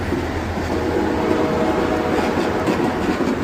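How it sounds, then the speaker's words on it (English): An Amtrak train rumbles steadily as it pulls out of a station at night, a continuous close, loud roll of wheels and cars with faint rail clatter and no voices. "The Amtrak train is pulling out of the station."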